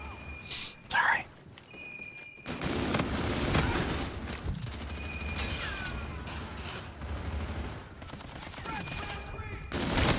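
Gunfire and explosive bursts from a Call of Duty: Infinite Warfare multiplayer Team Deathmatch match on a coffee-shop map, dense and continuous after a quiet start, with a voice murmuring over the game sounds.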